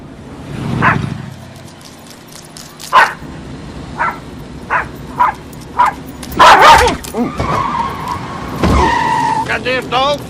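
A dog barks in a series of sharp, separate barks, several loud and close, mixed with other household noises and a voice speaking.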